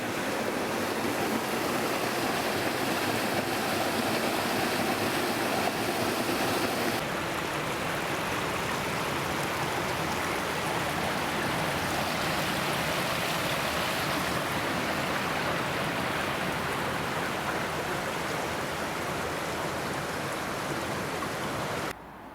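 The River Tillingbourne rushes past Shalford Mill, a steady, loud broadband flow of water running continuously and close by with no voices over it.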